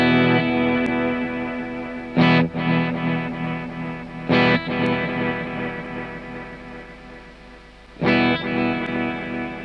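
Electric guitar run through a Kemper Profiler delay with the grid switched off, sustained chords carrying repeating echoes, with sharp strummed attacks near two, four and eight seconds that ring out and trail into repeats.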